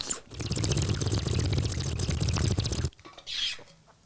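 Water pours steadily into a vessel for nearly three seconds, a dense close splashing stream that stops abruptly, followed by a brief faint trickle and then quiet.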